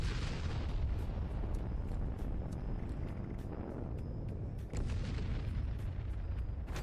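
Repeated grenade blasts and heavy booming in Fallout 76 during a workshop fight, a dense continuous rumble of explosions with sharp cracks recurring throughout.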